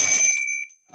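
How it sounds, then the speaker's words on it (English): A single bright bell rings to open a Rotary club meeting, its clear tone sustaining for over half a second before fading, followed by a brief pause and the start of a voice. "the bell was a little late"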